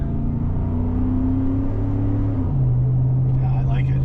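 Deep, steady exhaust rumble from a 2013 Ford F-150 pickup fitted with a Flowmaster exhaust, idling loud and close, with the pitch dropping at one point partway through and a voice briefly heard near the end.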